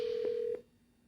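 Two short telephone keypad tones sound while a call is placed to a state governor's office line, each a steady beep with a brief break between, then the line drops to quiet.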